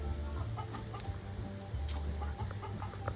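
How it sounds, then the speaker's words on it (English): Backyard hens clucking near an incubator hen and her rooster, soft repeated clucks close by over steady low farmyard murmur, no talking. "My little hens follow me around."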